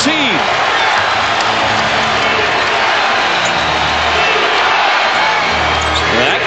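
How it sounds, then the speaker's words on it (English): A basketball arena crowd at a 2009 NBA playoff game cheers loudly and continuously, a dense wall of roaring noise with a commentator talking over it. "It's the crowd all fired up as well."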